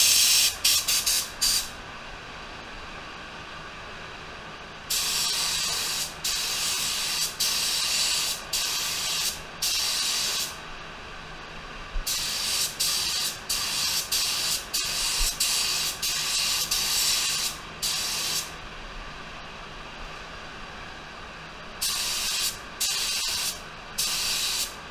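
A spray gun lays metallic auto paint at 26-27 PSI in repeated bursts of steady hiss, each pass lasting a second to a few seconds with short gaps between, close and fairly loud.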